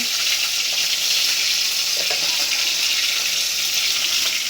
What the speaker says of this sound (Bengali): গুঁড়া মাছ আলু পেঁয়াজ দিয়া চচ্চড়ি করছে